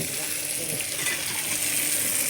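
Keerai greens cooking in a pan, a steady soft sizzle and faint bubbling hiss running continuously at close range with no voices.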